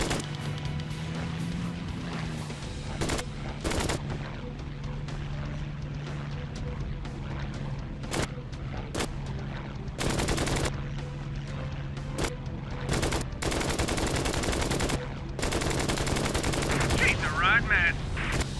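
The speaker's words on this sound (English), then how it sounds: "Your P-40 is armed with 6 little pistols, 2 in the nose and 4 in the wings. Easy on the trigger now, they heat up fast." A P-40 fighter plane's six wing and nose machine guns firing in a flight video game: sharp, loud bursts of rapid fire broken by pauses, over a steady low engine drone, with a voice faintly present.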